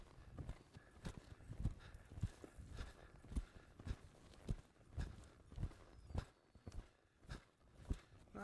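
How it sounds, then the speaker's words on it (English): Horse cantering in an arena, hoofbeats thudding in a steady repeating three-beat rhythm at close range, with no talk over them. "Nice canter."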